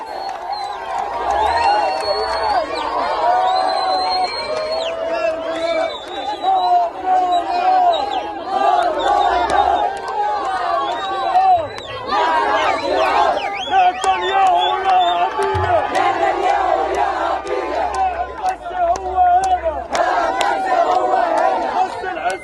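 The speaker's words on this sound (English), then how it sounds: "cheering can be heard at many of the camps for the hundreds of thousands of people who've been displaced" Large crowd of displaced Palestinians at a camp in Gaza cheering and chanting after a ceasefire, a dense, continuous roar of many voices with shouts rising above it throughout.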